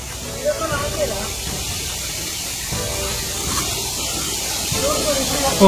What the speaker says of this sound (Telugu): వాటర్ ఘోరంగా పోతుంది